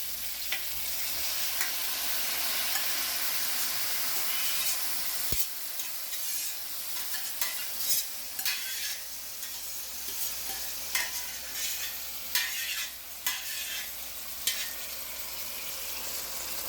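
Onions, peppers and beef cooking in a stir-fry pan produce a continuous, close sizzle, with intermittent scraping and stirring strokes rising above the frying hiss.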